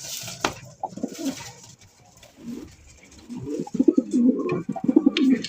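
Pigeons at a pigeon sale coo nearby in soft, throaty bursts, sparse at first and then a louder run of repeated coos in the final two seconds.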